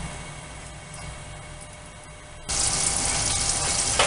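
Chicken strips for KFC-style chicken fingers drop into hot oil, and a quiet hum gives way to a sudden loud, steady sizzle of frying that fills the rest of the moment up close.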